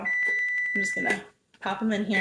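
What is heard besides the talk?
pastry shelf alarm beeping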